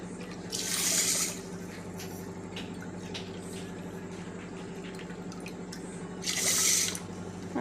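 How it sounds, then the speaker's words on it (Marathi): Water is poured from a bowl into a pan for gulab jamun sugar syrup, two short splashing pours about five seconds apart over a steady low kitchen hum. "आणि त्याच वाटीने आपण 3 वाट्या यामध्ये पाणी टाकायचं."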